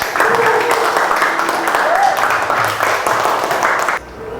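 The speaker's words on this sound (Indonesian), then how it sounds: "tepuk tangan buat kita semua." A classroom crowd claps steadily for about four seconds, a dense patter of hands that stops abruptly.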